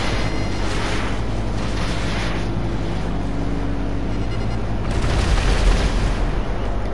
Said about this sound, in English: that was the biggest explosion ever